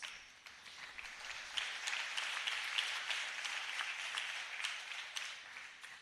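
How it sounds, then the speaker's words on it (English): An audience at a memorial oration in Kochi claps continuously, a broad even wash of applause that sounds somewhat distant and soft, holding steady for several seconds with no speech over it. "after your applause."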